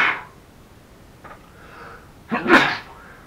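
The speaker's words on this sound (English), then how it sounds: "Sometimes when sneezes pop up, you just gotta sneeze." A single sharp human sneeze bursts out near the end after a quick preparatory inhale, close and loud against an otherwise quiet indoor room.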